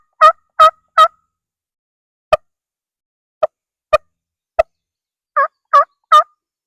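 A hunter imitates a wild turkey hen in the woods: loud, close yelps in quick sets of three, then single sharp notes with long silent gaps, then another trio.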